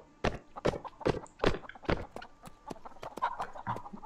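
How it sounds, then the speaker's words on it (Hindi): Chickens clucking in the Mount and Blade: Warband medieval video game, a series of short, sharp clucks and squawks at an uneven rhythm, fairly close, with no talking over them. "मुर्गियों की आ रही है यहाँ पे आवाज"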